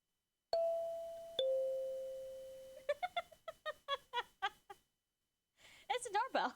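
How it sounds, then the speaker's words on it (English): A clear two-note ding-dong doorbell chimes once, followed by a string of short voiced sounds and then a burst of laughter. "it's a doorbell."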